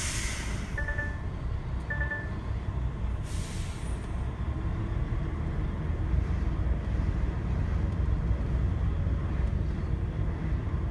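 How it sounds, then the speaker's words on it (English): An HGV bus moving forward, with a low rumbling engine drone and road noise that builds slightly, broken early by two short high beeps and a brief hiss like an air brake, with no talk. "I'm just going to move up the bus a bit more."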